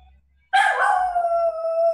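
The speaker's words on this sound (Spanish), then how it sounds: "un perrito que está ladrando" A small dog gives one loud, close, drawn-out howling bark that trails into a whine, after a brief near-silence.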